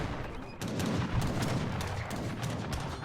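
Mortar fire in an Age of Empires III Definitive Edition team battle comes as a quick run of sharp, crackling blasts in close succession, fairly faint but steady across the moment.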